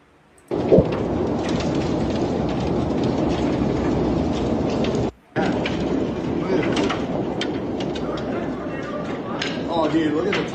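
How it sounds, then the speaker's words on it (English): A hailstorm with thunder and heavy rain in Iowa, a loud continuous roar with rumbling thunder and a brief cutout, while a voice talks over it. "Iowa got pelted with hail yesterday."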